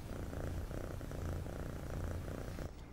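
A cat purrs close up, a loud steady rumbling with a regular rhythm of inhale and exhale pulses, heard on its own with no talk.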